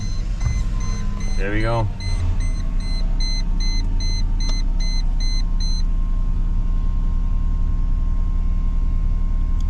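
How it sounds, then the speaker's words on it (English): An old car that sat parked for a month cranks briefly, fires and settles into a steady, smooth idle, with a chime beeping through the first few seconds and someone speaking briefly over the rumble. "Let's start her up."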